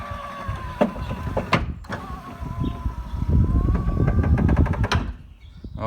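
A newly installed power window motor in a Ford Lincoln runs, a loud close mechanical whir with clunks and rattles as the glass moves, ending in a sharp stop.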